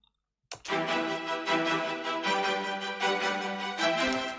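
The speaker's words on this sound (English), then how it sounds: "Then we have the staccato strings." Short, crisp string notes bowed in a quick staccato pattern, dense and continuous with harmonic layering, starting abruptly after a brief silence.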